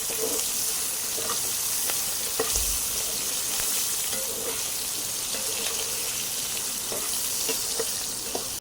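Potatoes frying in oil in a wok for a thin hilish fish curry at home, a steady close sizzle with scraping stirs and light clinks recurring throughout.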